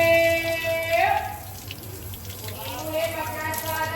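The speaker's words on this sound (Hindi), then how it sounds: "पहले पानी के नीचे इसको मैं कर लूँगी ताकि जो भी गंदगी हो वो निकल जाए।" Water gushes from a faucet as a lint filter is rinsed under it, a loud, steady running stream with the flow shifting as the filter moves, while someone talks over it.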